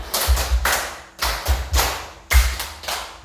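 A class claps the 'tepuk 5' pattern, sharp hand claps grouped in quick bursts with short pauses between them, close and loud, with no talk over them.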